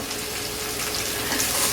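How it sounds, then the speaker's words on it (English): Chicken and broccoli aromatics frying in a pan give off a steady, close hiss that grows slightly louder toward the end, with no voices over it. "Okay, so that's sizzling."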